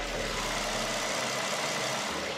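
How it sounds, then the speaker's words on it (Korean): A 2022 LPG Hyundai Grandeur idles with the hood open, giving a quiet, smooth, even engine hum with a soft hiss and no knocks or rattles. "밖으로 나가서 엔진 소음 한번 담아보도록 하겠습니다"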